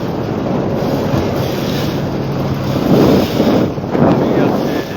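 Waves on a haor wetland lake in Sylhet, heard from a boat as a loud continuous wash of water with heavy wind buffeting and swelling surges.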